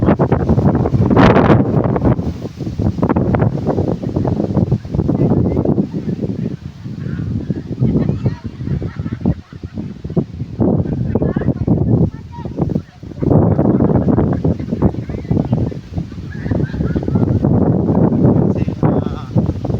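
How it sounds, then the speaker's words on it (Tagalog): Strong wind gusts buffet the microphone on a beach at Civic beside a swimming area, producing a loud, continuous rumbling roar that surges and dips throughout, with faint voices underneath. "So medyo malakas ang hangin dito ngayon sa Civic."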